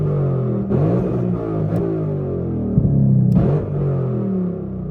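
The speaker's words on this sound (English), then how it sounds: "I held my foot down on the gas pedal so I could be able to press the button and spit the flame" A car engine rumbles and revs in repeated bursts with the throttle held down, sharp crackling pops from the exhaust as flames spit out, loud and close.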